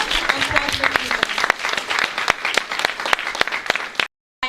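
A church congregation claps and cheers in praise of Jesus, a dense, steady wash of applause with sharp individual claps popping through, ending abruptly in silence.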